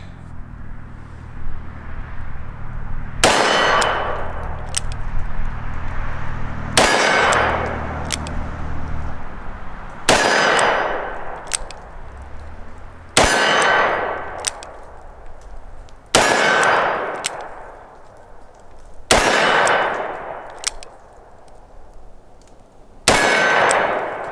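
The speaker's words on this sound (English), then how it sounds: "Let's go ahead and just keep shooting." An S&W 686+ Deluxe 3-inch revolver fires at steel targets outdoors: seven sharp reports come a few seconds apart, each with a bright metallic ring that slowly fades before the next shot.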